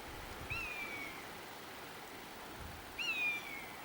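Two thin, high mewing buzzard calls, each a short descending whistle, ring out a few seconds apart over quiet countryside near Crieff, faint and distant against soft ambient noise.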